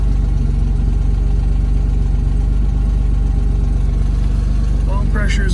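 A 1971 Mercedes 280 SL engine idles steadily up close, a low even rumble running throughout, with a brief voice at the very end.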